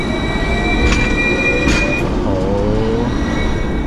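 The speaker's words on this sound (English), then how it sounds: "He does not get run over by these trams." A Hong Kong tram rolls along street rails close by, a loud continuous rumble with high squealing wheel tones and faint clicking over busy city noise.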